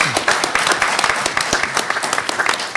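Audience applause fills a large conference hall at a political legislative gathering, dense rapid clapping sustained throughout at steady loudness without a break.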